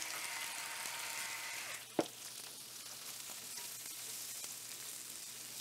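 One thinly sliced, salted onion sautés in a pan for japchae, a faint continuous sizzle with a single sharp clack near the start as a utensil touches the pan.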